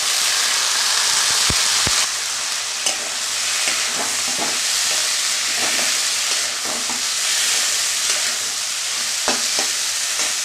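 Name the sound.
flat bean seeds frying and stirred in spiced oil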